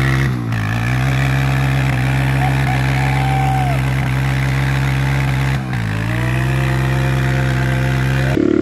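A BBR KLX170RF dirt bike engine drones loud and steady close up on its first ride, with its pitch rising and dipping under gentle throttle.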